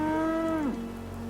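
A single cow in a Fallout 4 settlement gives one drawn-out moo that drops in pitch at the end, heard against a steady soft background hiss.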